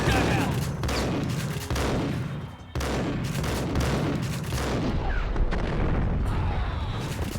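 Heavy, dense gunfire in the Max Payne game, loud overlapping blasts and booming reports that form a nearly continuous roar with a brief dip in the middle.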